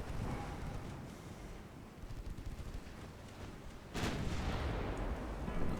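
Naval guns fire at a destroyer in a Greek extended campaign video game, a low rumbling barrage under wind-like noise, with one loud, sharp boom about two-thirds through, followed by sustained heavy rumble.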